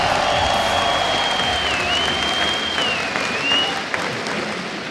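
At a League of Legends championship final at IEM Katowice, a large arena crowd applauds and cheers in a steady, loud wash of clapping that persists throughout, while a high sustained tone rings overhead.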